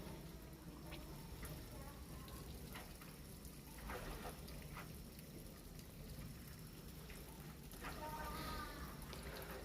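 Top-load inverter washing machine filling with water and detergent, a faint, steady rushing hiss with occasional light splashes and taps throughout.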